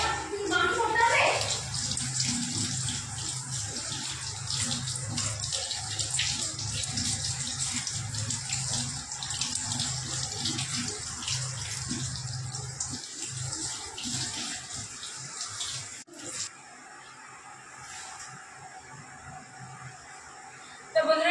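Tap water running steadily over a hilsa fish being washed in a sink, a continuous splashing gush that carries on for a long stretch, then cuts off and drops to quiet near the end.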